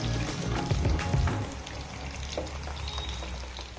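Amla, Indian gooseberries, frying in oil over a medium gas flame for pickle, giving a steady broadband sizzle with a louder bubbling burst early on that settles into a continuous hiss.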